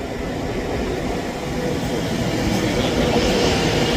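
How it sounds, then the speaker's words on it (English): An Avanti West Coast Class 390 train runs through Edinburgh Haymarket with a continuous loud rumble and roar, close by, and a faint voice underneath. "1015 Avanti West Coast service from London Euston to Edinburgh Waverley"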